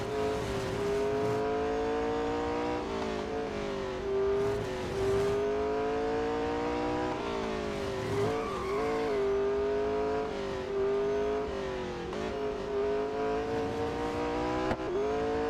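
A McLaren 600LT races in Real Racing 3, its engine note climbing and dropping through repeated gear shifts and revs, loud and continuous throughout, with brief tyre noise near the middle and no talk.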